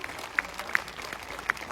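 Audience applause at an event, a continuous patter of many hands clapping with a few sharper, louder claps standing out.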